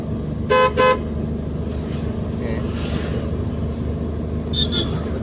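Two quick car horn honks close by, then another pair of shorter, higher toots a few seconds later over road noise, during a driving lesson in traffic.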